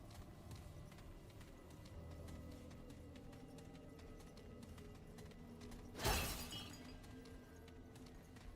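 Object smashed in the video game Remnant: From the Ashes, a single sharp shattering crash standing out from a quiet, steady game background.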